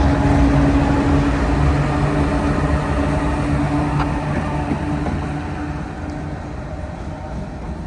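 Norfolk Southern freight train with a rear DPU locomotive rolling past on wet rails in the rain, a loud steady rumble and rail noise that fades slightly toward the end.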